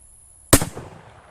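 A single sharp report from a cut-down gain-twist Carcano rifle cracks loud and close, then decays quickly into a short outdoor echo.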